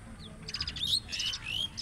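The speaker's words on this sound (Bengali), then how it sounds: "তো এই পাখিটা উঠতে পারতেছে না" A small bird that fell from its nest in a storm chirps in short, thin high tweets, a few quick bursts close by with no talk.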